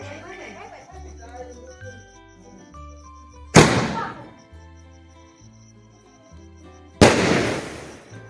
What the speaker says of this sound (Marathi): आमची छोटी आदिती ती ती तर छोटे छोटे फटाके नसता का तेच वाजवत होते जसं काय दिवाळीचे